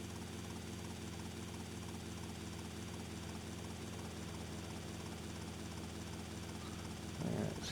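A helicopter's engine and rotor drone steadily and evenly throughout in GTA Vice City Definitive Edition, moderately loud, with a brief rise in low rumble near the end.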